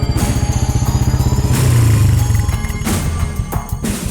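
A motorcycle arrives with a rhythmic engine putter that swells as it draws near, then settles into a steady idle, loud and close, with no talk over it.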